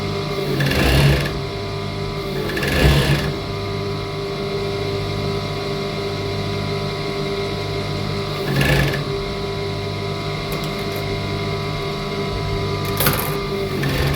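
A sewing machine stitches an 8-inch extension on two-piece night wear, humming steadily and close with a few louder surges as it speeds up, and no voices.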